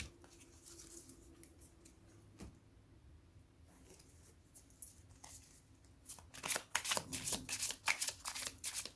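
Oracle cards being shuffled, a steady papery riffle and patter that grows louder and busier toward the end, close and alone with no talk.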